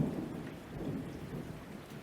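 Thunder from lightning strikes rumbles low and steady through a rainstorm, a faint, distant roll mixed with the hiss of rain on surfaces, with no voices.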